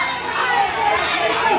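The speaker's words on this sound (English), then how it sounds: "Listen to these fans cheering for Kasey." Wrestling crowd cheering during a ladder match, a dense continuous roar of voices and shouts at moderate level with commentary-like talk mixed in.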